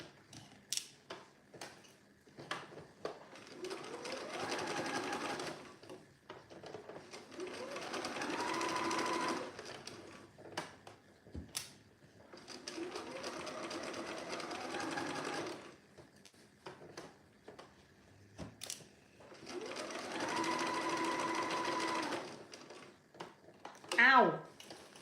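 A sewing machine stitches the side seam of a vintage shirt dress from the underarm in four long, steady bursts of rapid mechanical whirring, close and clear, separated by brief pauses with small clicks and handling noises.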